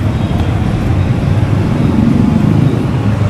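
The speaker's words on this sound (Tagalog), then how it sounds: "Laging traffic dyan eh sa may crossing na yan." Road traffic at a busy crossing in North Caloocan, a dense, continuous rumble of engines and passing vehicles, steady and fairly loud throughout with no talk.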